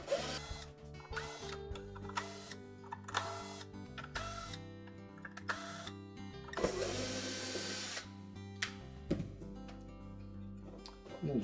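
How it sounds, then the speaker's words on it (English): Screws are backed out of the cover on a Whirlpool dryer blower housing, with a series of ratcheting clicks and whirring driver bursts, several separate short runs with quiet pauses in between, close and clear. "our next step is to remove these 7 screws that secure the cover to the blower housing"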